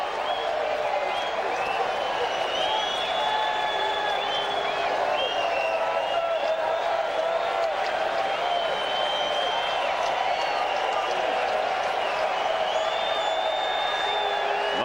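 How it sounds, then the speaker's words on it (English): Mostly Yankee fans applaud throughout a packed baseball stadium during a 1998 Yankees–Braves game, a steady, dense wash of clapping and crowd noise lasting the full stretch, with a commentator talking over it. "Mostly Yankee fans here clapping, and there are a lot of them."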